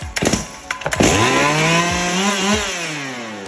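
A Stihl 382 chainsaw sputters with a few quick pulls, then the engine catches and runs, its pitch rising and settling into a steady buzz close by.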